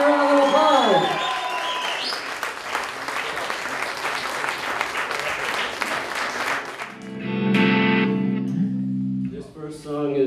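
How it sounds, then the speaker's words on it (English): Loud crowd applause for a three-piece band at a local talent showcase, holding steady for several seconds before fading as the band's instruments start sounding and tuning up. "Let's give them a big round of applause."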